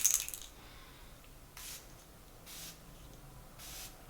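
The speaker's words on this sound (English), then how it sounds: "I'm going to finish off my makeup with the Tatcha, the Satin Skin Mist" Tatcha Satin Skin Mist setting spray pumped onto a face, three short, crisp misting hisses spaced about a second apart, close and fairly quiet.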